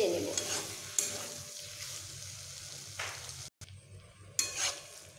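Ridge gourd frying with spices in a pan gives a steady soft sizzle with scraping stir strokes at intervals, a brief dropout midway, then the stirring resumes.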